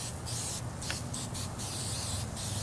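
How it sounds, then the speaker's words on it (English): Several short hissing sprays of oil onto vegetables for grilling burst out in quick succession, close up, with brief pauses between them. "we're going to give them a good spray."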